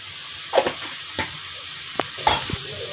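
Kaleji (liver) curry with garam masala, turmeric and crushed coriander frying in a pan: a steady close sizzle with scattered scraping clinks of a spoon stirring, no voices.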